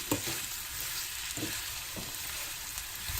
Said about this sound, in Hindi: अब हम इसे टमाटर को नरम होने तक भून लेंगे, मीडियम टू लो फ्लेम में।